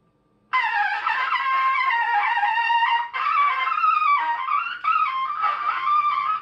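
A trumpet played with a weak embouchure holds a sustained, thin, wavering tone with audible breaks, loud and close, after a brief silence at the start.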